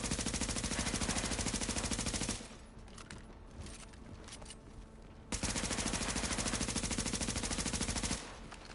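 Rapid automatic gunfire hammering at a shield in a video game, two long sustained bursts of dense, evenly spaced shots separated by a short lull, fairly close and steady.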